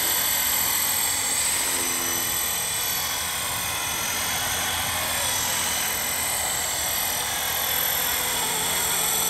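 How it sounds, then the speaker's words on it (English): A standoff scale civil-style radio-controlled model helicopter fitted with a micro heli kit and LED lights hovers close by, giving a steady, loud high-pitched rotor and motor whine that barely changes throughout, with no talking. "it is a standoff scale model of a sort of like civil helicopter"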